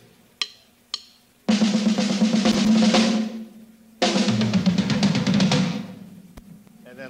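A drum roll on a kit is finished with a four-stroke ruff, with a couple of isolated hits first, then sustained loud rolling bursts that build and stop, in a progressive hard rock style.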